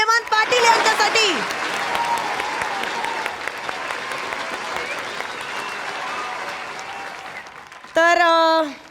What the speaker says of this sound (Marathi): जोरदार टाळ्या हेमंत पाटील यांच्यासाठी